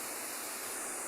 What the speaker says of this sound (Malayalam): ശക്തമായ രീതിയിൽ പുഴ ഒഴുകിക്കൊണ്ടിരിക്കുകയാണ്.